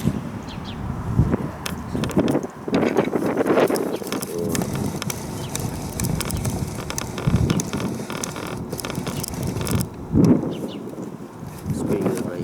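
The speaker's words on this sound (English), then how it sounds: "See that wind coming?" Wind blows outdoors at a skateboarding spot, a loud, continuous rumbling roar that buffets close and swells in gusts throughout.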